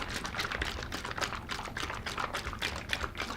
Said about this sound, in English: I'm going to take my formula. I'm going to shake it.